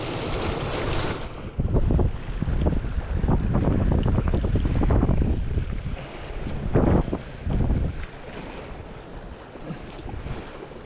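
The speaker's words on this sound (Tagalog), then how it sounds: "Lakas ng alon," Strong sea waves crash and roll against the shore under gusty wind buffeting the microphone, with loud surges of surf breaking repeatedly throughout.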